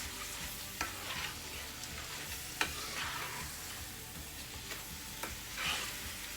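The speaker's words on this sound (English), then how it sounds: "so let's give this a stir" Jamaican pepper shrimp frying in a pan while being stirred. A steady, faint sizzle runs throughout, with occasional sharp scrapes and clinks of the utensil against the pan.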